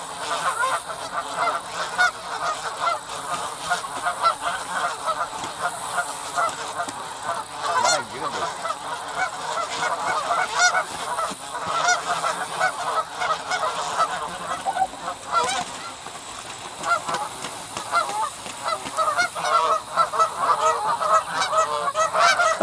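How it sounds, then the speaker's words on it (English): Geese honk repeatedly in a noisy, overlapping scuffle, loud and close, with harsh calls continuing throughout. "look, there's some geese fighting there."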